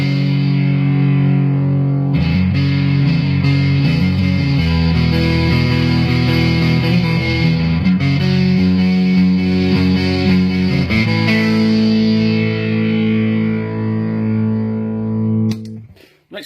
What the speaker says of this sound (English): He made me a very nice copy of the Crowther Audio Prunes and Custard